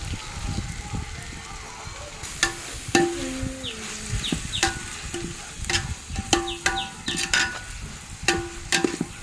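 Chicken biryani masala with fresh mint leaves being stirred in a large pot, a soft continuous sizzle with irregular spoon scrapes and knocks against the vessel, close, with faint background sounds throughout.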